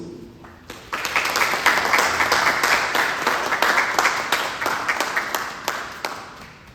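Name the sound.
church congregation applause welcoming the pastor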